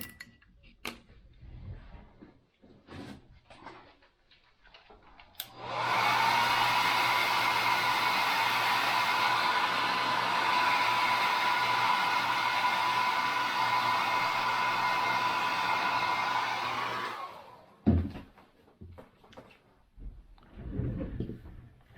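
Hair dryer blowing on painted wood of a caricature cowboy bust carving, a loud steady whooshing drone lasting about twelve seconds, bracketed by quiet handling clicks and knocks.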